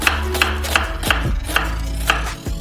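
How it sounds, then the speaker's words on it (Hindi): A large onion chopped with a knife on a cutting board, giving about seven sharp, evenly spaced thuds close up, with no talking. "और फाइनली चॉप करेंगे।"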